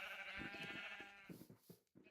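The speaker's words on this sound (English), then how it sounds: "I guess I have some sheep here" Yellow sheep in Minecraft bleat in a few wavering, nasal calls, one long and several short, fairly close and clear with no talking over them.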